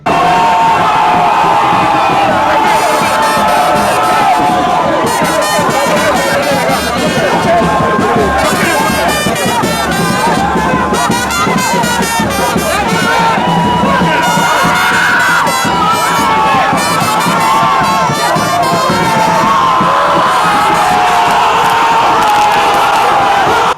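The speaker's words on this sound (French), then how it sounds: "sous les chants et acclamations de ses sympathisants" Supporters of Simone Gbagbo sing, chant and cheer loudly as she steps out of a vehicle, a dense, continuous wall of crowd voices with shouts and whistles throughout.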